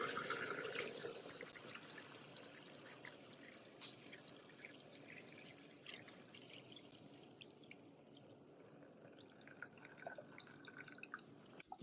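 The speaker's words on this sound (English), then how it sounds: "as soon as you lower this below the water level in the tank, it's going to start draining" Water drains from the tank of a Tomcat Carbon 29C cylindrical scrubber dryer into a floor drain, a steady trickling and dripping flow that holds fairly constant, close by, with no talk over it.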